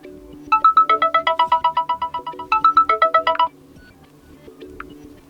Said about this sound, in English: When you get call, we can change ringtone for SIM 1 or SIM 2.